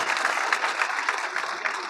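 Steady audience applause at a political gathering, dense and even, with many hands clapping close together and no voices above it.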